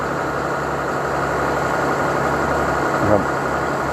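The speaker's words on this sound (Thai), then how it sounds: "เป็นระบบไฮโดรลิกต่อจากรถไถนะครับ" A tractor engine powering a hydraulic fish-suction pump at a plastic-lined pond idles steadily with a low mechanical drone and faint hum, running continuously at close range.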